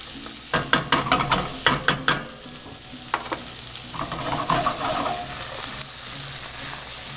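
Vegetables stirred in a hot pan for a seafood stew make a run of scraping, clattering spoon strokes over a steady sizzle. The strokes come in quick bursts early, then ease into softer, irregular stirring.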